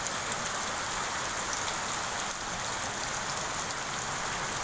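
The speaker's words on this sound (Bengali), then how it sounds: "এই অসাধারণ বিকাল সন্ধ্যায় এই বৃষ্টি কি মনোরম দৃশ্য।" Even, constant rainfall hisses and patters on surfaces, moderately loud and uninterrupted, with no talking.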